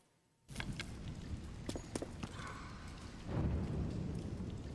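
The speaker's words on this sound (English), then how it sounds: "Oh, there's a lightning storm." Rain and a thunderstorm at Hylia Lake in a Zelda video game, a steady hiss of rain that starts suddenly with a few sharp crackles, then a deeper rumble of thunder building toward the end, fairly faint overall.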